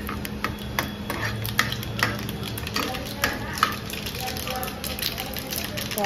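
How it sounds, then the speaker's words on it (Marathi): Mustard seeds sauté in hot oil in a pan for khichadi, a steady sizzle with stirring clinks of a utensil against the pan throughout. "तर थोडं परतूया."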